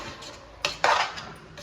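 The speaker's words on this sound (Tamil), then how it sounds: "இப்போ காயெல்லாம் போட்டுட்டு காய் நல்லா வதக்கி விட்றா" Vegetables for vegetable rice are sautéed in a pot, heard as a few sharp metallic clinks and scrapes of a utensil against the pot over a faint background.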